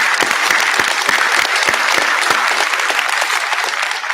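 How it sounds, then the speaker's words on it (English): A round of applause rises from the audience at an IETF plenary session. It is dense, steady clapping with sharp individual claps standing out, and it holds at an even level throughout. "A round of applause, please, for these folks."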